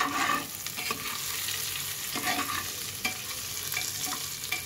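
Garlic, salt, turmeric and dried chillies fry in soybean oil for a pulao khichuri, a continuous close sizzle broken by repeated scraping strokes of a spoon stirring through the pan.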